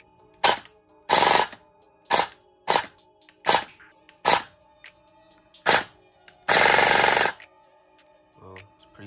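Airsoft AEG electric rifle with a higher gear ratio and stronger spring, firing in a series of short, loud mechanical bursts and one longer sustained burst, close up.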